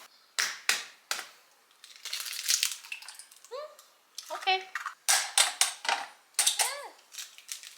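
Two eggs cracked at once in a home kitchen bakery give a few brief, close crunchy cracks and shell crinkles, set among short bursts of a woman's speech and light kitchen clatter.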